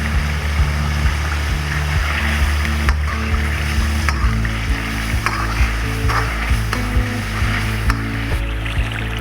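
Chicken white karahi sizzles steadily during bhunai, with green chillies and lemon juice in the pan, giving a continuous close frying hiss over a low hum with faint scraping clicks throughout.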